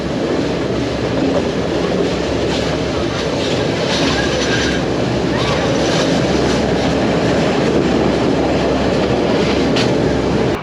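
Steady loud rumble and rattle from inside a moving passenger train on a scenic Sri Lankan railway, wheels clattering over the rails without a break from start to finish.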